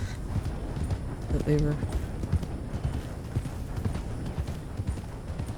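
Horse hooves clip-clop in steady rhythm in Red Dead Redemption 2 as the rider travels along, a continuous clattering gait running under someone talking for the whole stretch.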